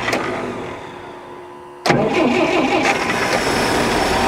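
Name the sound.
1962 Dodge D300 engine starting after 34 years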